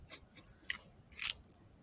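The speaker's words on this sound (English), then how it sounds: "I'll use my sandpaper trick here." Sandpaper dragged along a thin wooden stick for a truss tower model, a few quick, faint rasping strokes with one longer scrape near the end, no voices.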